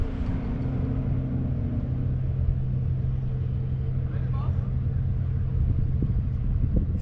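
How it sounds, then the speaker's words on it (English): Toyota A90 Supra at a drag strip, its engine giving a steady, loud low rumble with a sustained droning tone that fades after a couple of seconds, then broad engine and track noise continuing throughout. "This is A90 Supra."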